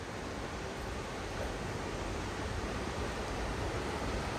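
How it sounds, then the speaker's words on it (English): The Waterfalls of Nesso on Lake Como pour down in a constant, dense roar of rushing water, loud and close, with no pauses and no voices. "The Waterfalls of Nesso."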